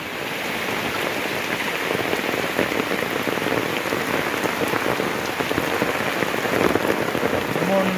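Heavy rain pours steadily onto surfaces outdoors, a dense, continuous hiss and patter at close range with no pauses across the whole stretch.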